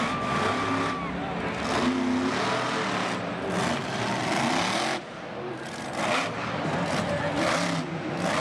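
The Hurricane Force monster truck roars at a Monster Jam show in Jacksonville, a loud, sustained engine blare with revving surges, heard alongside crowd noise and a commentator's voice.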